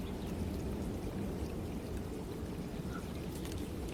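Steady water sound in an ethereal fantasy game setting, a continuous pouring, rain-like wash that stays even and moderately soft throughout, with no speech over it.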